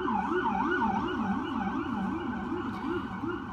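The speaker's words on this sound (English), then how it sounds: "Pardon the sirens." A wailing emergency vehicle siren in Oklahoma rising and falling in a steady rapid cycle, loud and continuous, with no speech.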